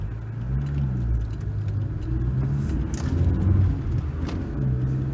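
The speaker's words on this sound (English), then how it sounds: "Especially not when there's a Porsche driving past." A Porsche sports car drives past nearby, its engine a low, throaty rumble that swells and fades as it goes by.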